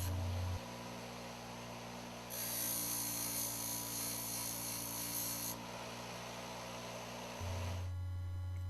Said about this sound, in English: Using the bench grinder to sharpen points on both ends of the spring clamp